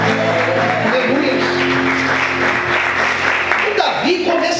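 A church congregation applauds during a service, a dense, loud, continuous clapping with voices and music tones mixed under and through it.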